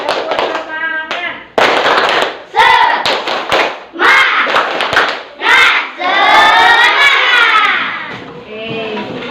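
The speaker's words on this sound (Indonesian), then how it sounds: "Nah, letakkan tulisnya, kita tepuk semangat dulu" A school class performs tepuk semangat, a rhythmic spirit clap, in loud bursts of clapping and chanting voices separated by short pauses, with children shouting along between the claps.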